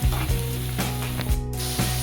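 Green chilies cooking in yogurt with a little sugar in a pan, giving a steady, close sizzle with a few brief stirring scrapes and clinks throughout.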